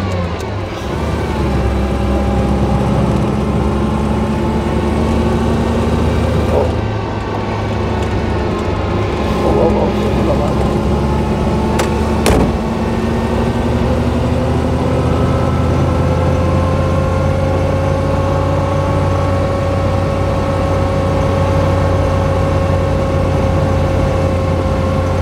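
1935 Bugatti Type 46 S supercharged cabriolet pulling uphill, its engine droning loud and steady with rising, shifting tones, people talking over it and a couple of sharp clicks midway.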